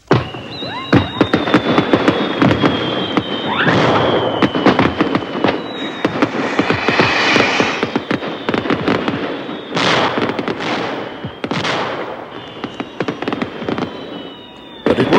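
Fireworks and firecrackers pop and crackle in rapid, loud bursts, with whistling rockets streaking overhead and repeated sharp bangs throughout.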